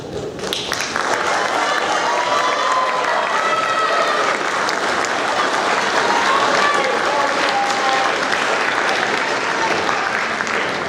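Sustained applause from a school audience honouring eighth-grade students at an awards ceremony, dense steady clapping that fills the room for about eleven seconds at even loudness, with faint voices mixed in.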